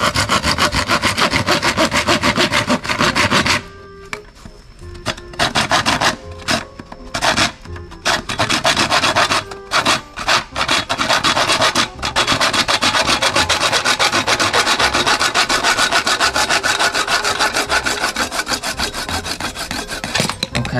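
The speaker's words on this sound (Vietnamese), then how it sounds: "anh sẽ cắt ngay cái đoạn này cũng được để cho nó nhu cái nắp lên xíu" Hand sawing of a piece for a homemade air horn, loud close rasping strokes in a steady rhythm, briefly paused a few times before resuming.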